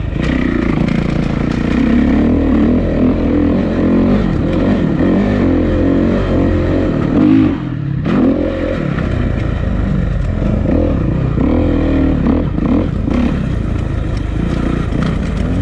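A motocross motorcycle rides an old dirt track, its engine loud and close, revving and accelerating continuously with a brief drop around the middle before climbing again.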